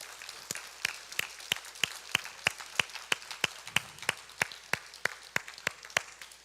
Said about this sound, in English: Can we get the Lord a big hand clap of praise